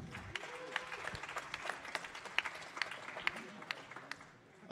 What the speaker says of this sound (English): Give him a big applause, Bart.